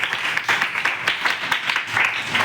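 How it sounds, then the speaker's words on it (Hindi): Classroom of students clapping together for a classmate named Piyush, a dense, steady patter of many hands lasting a couple of seconds at moderate loudness. "एक बार जोरदार तालियां पीयूष के लिए।"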